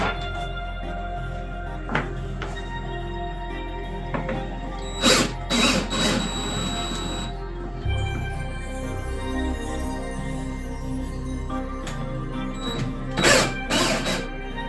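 Bolts on a Club Car Precedent golf cart are loosened with a ratcheting tool, giving intermittent clicking and sharp mechanical bursts over a steady low hum, close by, with no talking.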